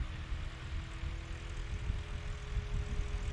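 Legend Cub light aircraft engine fitted with a new muffler at a STOL practice event, a steady propeller drone with a low rumble, heard from a moderate distance with no voices.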